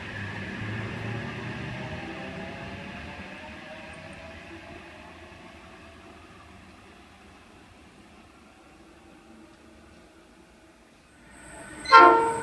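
Train hauled by 81 class locomotives at Wondabyne, Sydney, a long diesel rumble with droning engine tones fading into the distance, then a sudden loud horn blast close by at the end.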